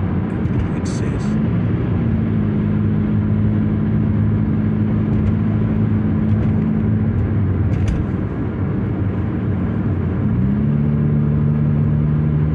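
A car drives fast on a Canadian road, a steady loud engine and road roar with a low droning tone that shifts pitch midway, heard from inside the cabin.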